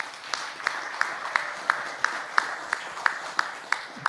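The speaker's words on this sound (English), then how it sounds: "Let's give a round of applause to our panelists." An audience applauds panelists at a conference session; steady clapping from a modest crowd, with one nearby pair of hands striking sharp, evenly spaced claps about three per second above the rest.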